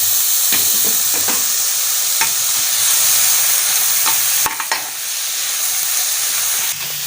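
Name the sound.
tomatoes being stirred and fried in a pan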